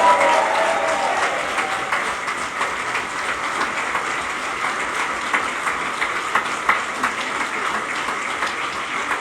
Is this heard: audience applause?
yes